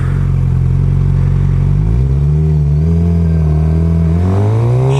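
A Suzuki GSX-R 600 engine revs loud and close, its pitch climbing, dropping briefly at a gear shift, then climbing again through the next gear, with no talking.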